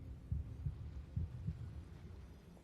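Heartbeat sound effect from the video game Genshin Impact: a series of low, thudding double beats, fairly close and moderately loud, with no talk.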